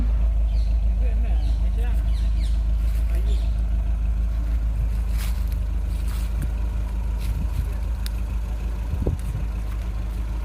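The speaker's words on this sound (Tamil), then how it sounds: "கார் வந்து ஸ்டார்ட்டில் தான் நிற்கிது நீங்கள் அங்கே சத்தத்தை கேட்டு பாருங்கள்" A parked car offered for sale in Jaffna idles with a steady low engine drone, close and constant beneath someone talking throughout.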